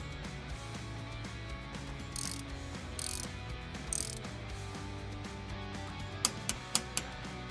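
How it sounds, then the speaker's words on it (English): A ratchet wrench tightens a 12-point bolt on a Polaris RZR Pro R tie rod in a garage, with steady clicking pawl strokes up close, a few brief louder bursts, and several sharp final clicks of a torque wrench. "This bolt's going to get torqued to 22 foot-pounds."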